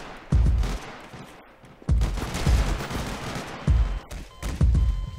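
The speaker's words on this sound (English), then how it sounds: "You're the one using the dubstep gun." A dubstep gun firing in the Garry's Mod game, heard as loud booming electronic blasts with heavy bass, coming in several bursts with brief pauses between them, and no talking.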